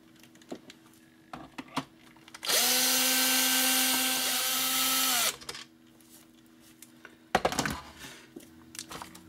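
A cordless power driver whirs steadily for about three seconds while unscrewing the housing of a Nerf HALO MA40 toy blaster, with soft handling clicks and plastic rattles before and after.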